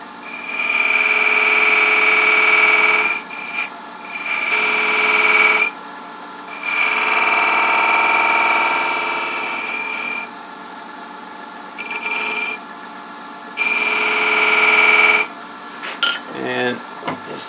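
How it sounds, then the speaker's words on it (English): Sandpaper, 200 to 220 grit, pressed against a spinning wooden piece on a woodturning lathe: a loud continuous whirring hiss rising and dropping in long passes, with the lathe running throughout. "now all I need to do is touch that up with just a little bit of sandpaper"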